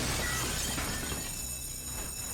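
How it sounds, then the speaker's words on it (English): Glass shatters loudly in The Warriors on PS2, a sharp crash that trails into scattered tinkling shards and then fades, with no voices over it. "they're like literally just smashing the glass"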